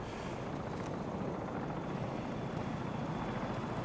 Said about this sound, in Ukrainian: тут нас гелікоптери заберуть